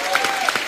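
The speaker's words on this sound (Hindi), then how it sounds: "जोरदार तालियां।" Applause from a studio audience at a Hindi comedy talk show, a dense steady patter of clapping filling the whole brief moment at close range.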